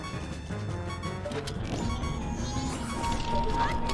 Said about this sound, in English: The smashing sound was a good indication.